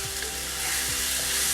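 Sausage sizzles steadily in a hot pan, a constant bright crackling hiss broken by a few soft scrapes as a paddle stirs it, close and unaccompanied by talk.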